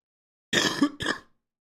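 A close, loud throat-clearing cough in two quick bursts, with no talking around it.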